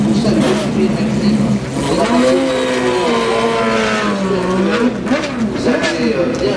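WEC endurance race cars at the 6 Hours of Spa circuit, loud engines screaming past in sweeping rising and falling pitches, several cars in succession with a faint public-address voice underneath.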